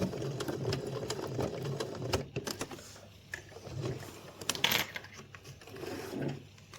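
A sewing machine stitching a backstitch on a fabric pennant banner, with bursts of rapid mechanical needle clatter broken by short pauses, handling clicks and fabric rustle, close and fairly quiet.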